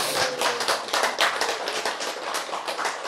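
A church lecture audience claps together in a dense, steady burst of applause that carries on for a few seconds, fairly close and with no voices over it.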